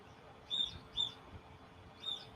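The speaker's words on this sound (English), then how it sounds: "birds are screaming in the background" Small birds chirping outdoors after a ball game, three short high tweets spaced about half a second apart, faint and distant over low background murmur.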